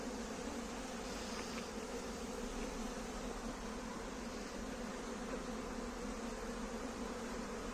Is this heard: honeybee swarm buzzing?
yes